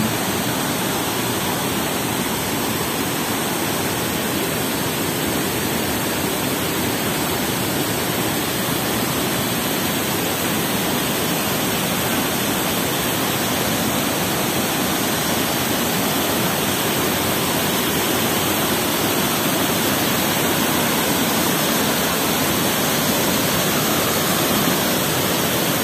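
Tanggedu waterfall in NTT roars in a steady, loud broadband rush of falling water that never pauses across the whole stretch, with no voices over it.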